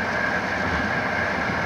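An overnight passenger train running on rails, a steady rumbling roll with a faint high whine, moderately quiet and constant with no voices.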